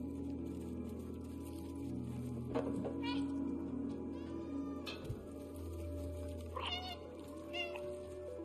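A cat meows several times in the video game Stray, short close calls spread through the clip over a steady game soundscape, with a person talking in between.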